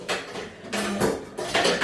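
A frying pan and other kitchenware clatter in short, sharp bursts, metal knocking against metal and dishes close by, with pauses between the clanks.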